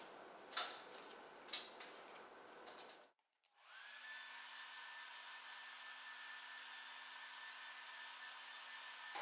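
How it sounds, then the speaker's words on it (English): A hair dryer blows over washed cauliflower pieces in a metal strainer, giving a steady whirring rush with a few soft clinks at first. After a short pause it starts again as an even, continuous drone, fairly quiet overall. "because it can be really hot after the hair dryer has started to dry all of this"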